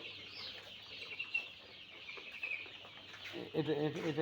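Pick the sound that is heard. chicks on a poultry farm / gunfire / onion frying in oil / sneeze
chicks on a poultry farm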